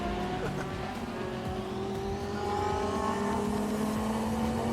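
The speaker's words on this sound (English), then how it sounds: "Keeping his momentum, trying to claw at the Ferrari, Carlo Van Dam" Ferrari GT race cars at Sepang circuit roar past with rising engine whine and shifting pitch, a loud continuous drone of several cars, under an excited commentator's voice.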